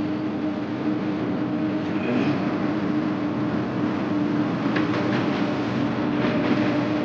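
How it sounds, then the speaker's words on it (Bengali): A goods train rolls past on the Damodar railway bridge, a dense continuous rumble and rattle of wagons at close range with faint metallic clacks, steady throughout with no voices. "মাল ট্রেনটা যাচ্ছে সাইডে"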